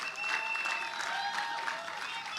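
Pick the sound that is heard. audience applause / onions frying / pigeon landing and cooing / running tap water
audience applause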